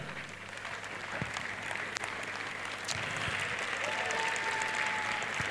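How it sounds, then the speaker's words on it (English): Audience at a convocation ceremony in Nigeria applauding, steady dense clapping from a large crowd throughout, swelling slightly louder toward the end. "let your applause have a NAFDAC number. Make it much louder."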